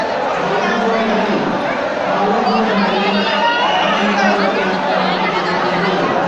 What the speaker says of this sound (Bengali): এখানে ভিড়টা দেখুন মানে চোখে পড়ার মতো ভিড়